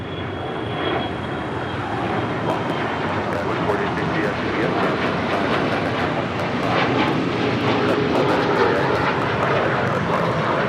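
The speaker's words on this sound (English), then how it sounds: "That is Alaska 1343 coming in from Los Cabos on a 737-800" An Alaska Airlines Boeing 737-800 arrives at Los Angeles International Airport from Los Cabos, its engine roar building slightly and then holding loud and steady, with people talking nearby.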